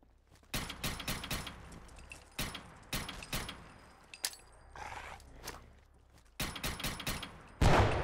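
Gunfire in the Fallout 4 video game: loud, close bursts of rapid automatic shots in several separate volleys with short pauses between them, plus a few single cracks and mechanical clicks.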